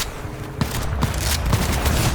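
A shotgun in the first-person shooter Cyberpunk fires several punchy blasts, roughly half a second apart, amid dense gunfire-like noise in the game mix.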